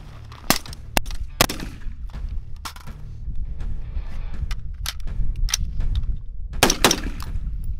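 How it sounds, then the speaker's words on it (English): Pistol shots during a prone-to-kneeling firing drill on an outdoor range, several sharp loud cracks spaced irregularly, with a tight pair near the end, over steady background noise. "from prone to kneeling, five rounds through the duration"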